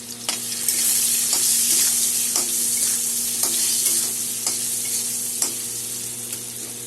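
Cut potatoes frying in a pan with turmeric and salt, heard as a loud, steady, close hiss of frying with regular light taps and scrapes of a stirring utensil roughly every second, and no one speaking.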